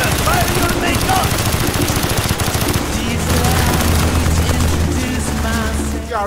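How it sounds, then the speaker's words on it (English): Rapid machine gun bursts and heavy main gun fire in the video game Call of Duty: Black Ops, loud and continuous with booming impacts over a low engine rumble and background music. "Mason, fire to the main gun!"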